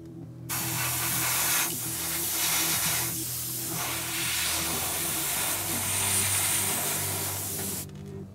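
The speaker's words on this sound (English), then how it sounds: "I'm gonna finish airbrushing this coat and then I'll come back." An airbrush sprays a coat of paint onto an Imperial Fists Redemptor Dreadnought miniature, a steady, close, hissing spray that runs for several seconds without a break, with no talking.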